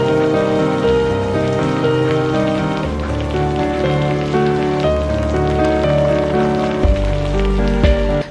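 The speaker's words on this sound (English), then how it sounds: "some people are waiting for rain to stop" Rain falls at a petrol pump during the first monsoon rain, with a dense, steady wash of drops on surfaces laid under continuous music, loud and unbroken throughout.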